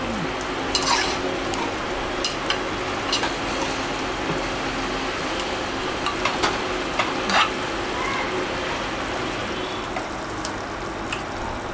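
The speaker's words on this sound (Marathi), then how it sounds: "तर आता हे उकळायला चालू झालंय." Chicken gravy bubbling in a pot on the stove, with a continuous low simmer and scattered sharp clinks and scrapes of a spoon stirring against the pot.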